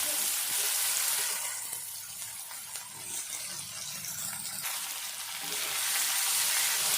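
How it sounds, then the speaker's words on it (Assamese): Chopped onions sizzle in leftover oil from frying rohu fish, a steady loud hiss close by with faint stirring, and no voices. "এতিয়া মাছ ভজা তেলখিনিতে মই পিঁয়াজ দিলোঁ"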